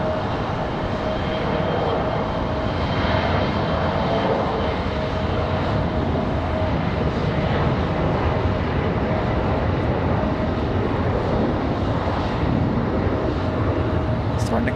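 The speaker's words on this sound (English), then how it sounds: "another E175 up for departure. Followed by an American 737." An Embraer E175 and an American Airlines Boeing 737 depart from Raleigh Durham airport, heard as a steady, broad jet engine roar at moderate distance. The roar holds evenly throughout with a faint tonal whine on top.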